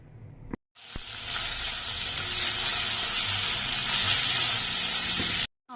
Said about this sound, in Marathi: आलं, लसूण, कोथिंबीर, टोमॅटो, कांदा चांगलं परतून घेतलं